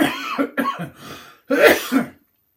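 A person coughs and clears their throat several times in quick bursts, close up, followed by a brief pause and one more harsh cough.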